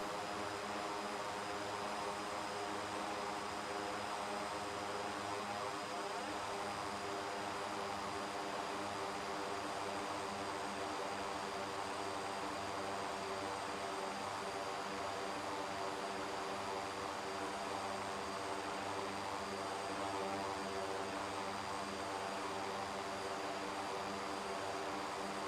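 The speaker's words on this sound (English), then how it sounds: "let's fly this airplane" A propeller airplane engine hums steadily in the X-Plane 11 flight simulator game, a continuous even drone with a whining tone that holds for the whole stretch, with no voices.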